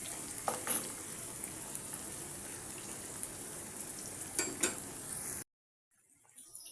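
Green chillies with cinnamon, cloves, bay leaf and cardamom frying in a pan, giving a steady close sizzle with a few faint clinks of stirring, cutting off into near silence near the end.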